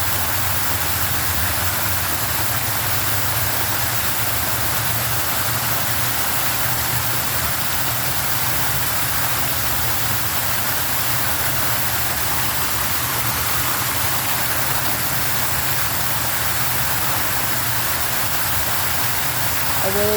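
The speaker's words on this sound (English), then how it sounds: "I really like this waterfall that is over here." An outdoor waterfall at the Shrine of Remembrance rushes with a dense, steady roar, broadband and unbroken for twenty seconds, close and loud.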